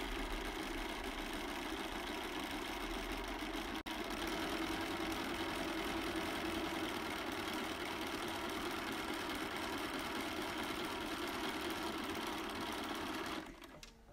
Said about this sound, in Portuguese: Tô passando aqui o overlock, tá vendo?